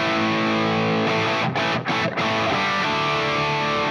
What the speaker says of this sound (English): so we could put a tube screamer on